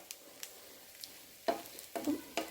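Cabbage frying in ghee on a tava for a curry, with soft sizzling and a few sharper bursts of stirring or spatter near the end, quiet and without talk.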